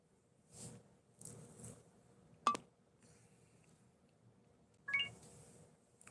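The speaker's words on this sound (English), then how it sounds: "Oh, phone." A telephone gives two short bursts of dialing tones, a few seconds apart, in a quiet room with soft handling noises and faint rustling in between.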